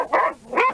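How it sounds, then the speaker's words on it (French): Kizzy, a sled dog, gives two short, loud barks close by, one right after the other, with no one talking over them. "elle a amené un chien que vous connaissez aussi, c'est Kizzy"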